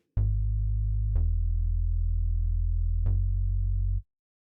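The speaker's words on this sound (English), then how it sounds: "I just soloed my bass track and it sounds like this" A soloed bass track from a pop/EDM mix plays three sustained low synth bass notes, each starting with a sharp attack and then holding steady. It is clean and isolated with no other sounds, and ends abruptly.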